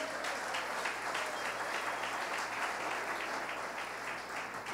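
A church congregation claps together in a dense, steady applause that carries on evenly at moderate volume, without speech over it.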